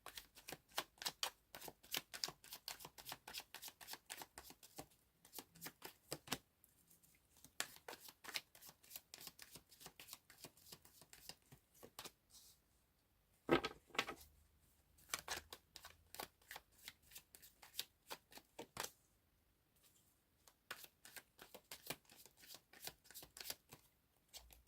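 A tarot card deck is shuffled in repeated bursts of rapid, crisp riffling and flicking, broken by short pauses, close and fairly quiet with no talking.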